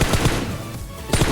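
Bursts of automatic gunfire in PUBG Mobile knock down an enemy player, a couple of rapid close shots, a brief lull, then another quick burst.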